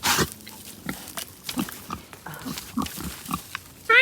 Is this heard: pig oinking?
yes